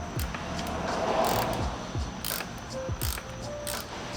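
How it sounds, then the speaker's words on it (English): Ratchet wrench loosening the handlebar clamp bolts on a motorcycle, giving rapid clicking pawl strokes in short bursts, close and fairly quiet, with no talk. "we're gonna loosen the two bolts that's holding down the handlebar at the bottom"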